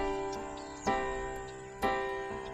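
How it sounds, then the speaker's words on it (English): A 2-1 suspension played as sustained chords on a keyboard-like instrument: three struck chords, each ringing and fading before the next, with the suspended note resolving down by step, clear and alone. "The first suspension on the card is a 2-1 suspension."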